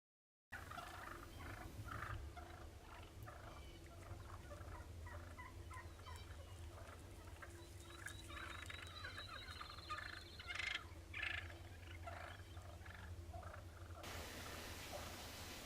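Wild turkeys, young first-year toms among them, gobble and call at a feeding spot outdoors, steady rolling gobbles recurring throughout over a continuous bed of field noise, moderately near and fairly loud, with no talking.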